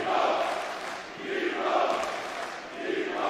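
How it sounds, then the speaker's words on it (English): A darts crowd in Germany cheers at the International Darts Open 2022. The roar of many voices swells and fades in repeated waves, with no clear speech. "Crowd are loving that, understandably, here in Germany"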